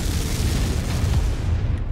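An enemy blowing up in MechWarrior 5: a loud, sustained deep rumbling boom filling the whole moment, dense and close with no talk over it.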